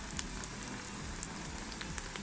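Chopped onions frying golden in hot oil for a dhaba-style masoor daal, a soft crackling sizzle with scattered small pops, faint and steady with no voices.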